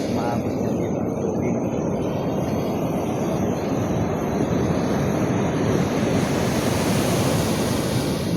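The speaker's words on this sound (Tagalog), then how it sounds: "Ngayon ko lang nakita itong ganito siya kalalaki yung alon." Heavy ocean surf roars continuously on a sunny, windy beach, big waves crashing with a deep, rumbling wash and wind buffeting the microphone.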